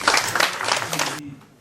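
An audience applauds to welcome a speaker at a Korean school-planning final report meeting, a dense burst of clapping that runs for about a second before cutting off sharply, leaving a quiet room.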